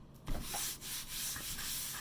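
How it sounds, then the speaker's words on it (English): Sanding across a surface treated with graphite powder, heard as a few close, scratchy rubbing strokes with no one speaking. "Maybe do the other side and sand it."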